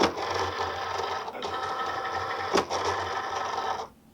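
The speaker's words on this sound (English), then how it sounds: "insert your mat into your Cricut machine and go ahead and press your load button." A Cricut cutting machine loading a cutting mat: a steady motorized whir and hum with a couple of brief clicks and knocks, close and continuous before stopping abruptly near the end.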